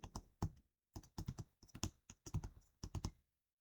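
Quiet close-up clicking of computer keys as a word is typed, short clusters of taps separated by brief pauses.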